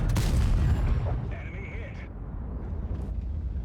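A tank cannon shot in World of Tanks fired at an enemy pushing a Char wreck, a heavy low boom at the start that rolls off into rumble, with a faint voice over the battle noise.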